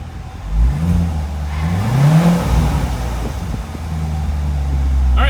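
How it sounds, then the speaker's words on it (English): A C7 Corvette Stingray engine with an aFe cold air intake revs and surges, its pitch rising and falling with a breathy intake whoosh, heard up close without talk. "you hear it sucking in the air a lot more"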